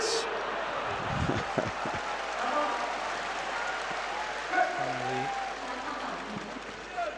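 A crowd applauds at a Sanda World Cup semi-final bout, with sustained arena clapping and crowd noise while a commentator talks over it.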